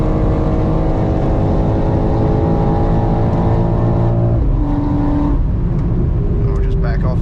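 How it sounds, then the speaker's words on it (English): A 2023 BMW X4 M Competition SUV laps the Nurburgring, its engine loud and close with steady harmonic drone that drops sharply as it backs off, then lighter engine and road noise; a voice talks over it. "that's a lap of the Nurburgring in the BMW X4 M Competition"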